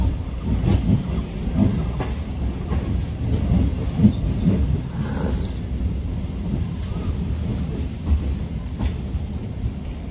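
A MEMU passenger train travelling from Azimganj to Kasimbazar, heard from on board: a continuous heavy rumble with rhythmic wheel clatter and occasional faint squeals, close and steady throughout.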